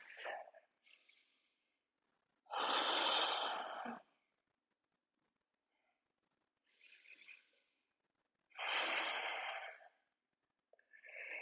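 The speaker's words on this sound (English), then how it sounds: "Finding 2 cycles of steady breath." Steady, deep yoga breathing: two long, loud breath cycles close to the mic, each a broad rushing exhale, with softer breaths between and no talking.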